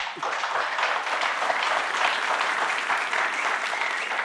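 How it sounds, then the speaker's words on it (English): A studio audience at a car-show talk taping claps in a steady, full burst of applause that stays even and loud throughout, with no talk over it. "I want a round of applause just for that sentence."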